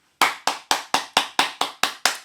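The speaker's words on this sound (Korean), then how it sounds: "시인님 박수" Nine sharp, evenly spaced claps from a single pair of hands at a poetry lecture, crisp and close, with brief silence between each.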